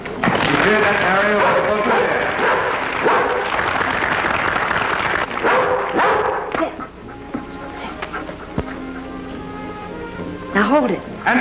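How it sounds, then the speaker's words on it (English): Dogs bark and yip loudly in an old 1941 film, their barking mixed with a voice and an excited crowd in the background. "Look at that dog go over there, Joe."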